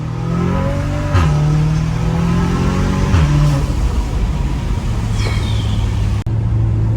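A stage 2 Audi S3 with a loud, close engine that revs up through several pulls and shifts. Small crackling exhaust burbles come between the rising, droning acceleration runs.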